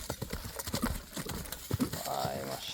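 Horse hooves clip-clop in uneven close bursts at a horse market, with a faint voice and some background sounds joining toward the end.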